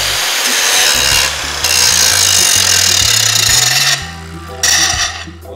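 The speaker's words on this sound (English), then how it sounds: "I want to grind the top of that weld off a little bit" A power grinder takes the top off a weld on layered steel for a shovel-made knife, a loud close abrasive hiss with a wavering low motor tone, surging and easing as pressure changes, no talking.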